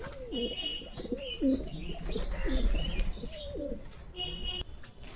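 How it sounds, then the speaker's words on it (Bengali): Several pigeons of mixed breeds, including Bombay pigeons, coo repeatedly in a loft, their low rolling calls overlapping close by with a few chirps and faint rustling; no one speaks. "অনেক কবুতর আছে, বোম্বাই কবুতর থেকে ধরে সব কবুতরে আছে আমাদের কাছে"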